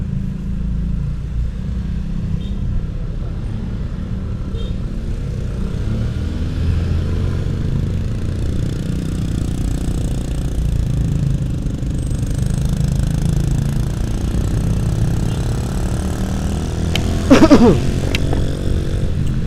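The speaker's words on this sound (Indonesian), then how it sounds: "Ini biasa macet standar." Congested traffic with motorcycles and cars, engines idling and revving steadily close by for the whole stretch, with a brief clatter near the end and no talk.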